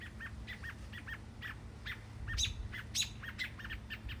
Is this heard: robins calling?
yes